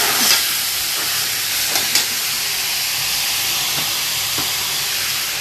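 Onions frying in a pan with salt, a continuous loud hissing sizzle with steam and a few faint scrapes of stirring, no talk over it.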